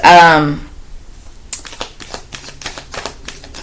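A voice speaks briefly, then a deck of tarot cards is riffled repeatedly, crisp fluttering bursts close by in an irregular rhythm.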